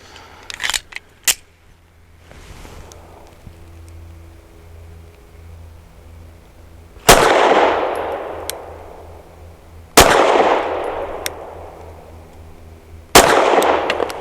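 A custom Sig P320 pistol fires Heavy Shot 100-grain frangible lead-free rounds at a range. After a few light metallic clicks of handling, three loud, sharp shots ring out several seconds apart, each trailing off in a brief echo.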